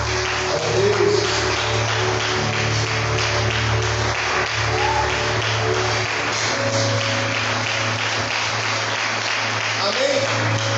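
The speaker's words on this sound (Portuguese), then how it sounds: "Você pode aplaudir bem forte o Senhor?" A church congregation claps steadily and loudly for several seconds, a dense continuous patter of applause with voices mixed in.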